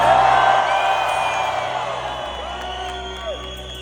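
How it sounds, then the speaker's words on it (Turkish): A large arena concert crowd screams, whoops and cheers loudly in a sustained roar, with a few higher shouts standing out from the dense mass of voices. "Eskileri sevenler çığlık atsınlar."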